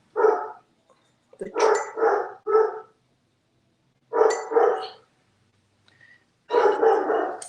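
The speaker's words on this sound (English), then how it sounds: "I don't know what my dog is barking at." A dog barks in short clustered bursts of two or three sharp barks, with brief silent gaps between them. The barking is fairly close and clear, with no one speaking.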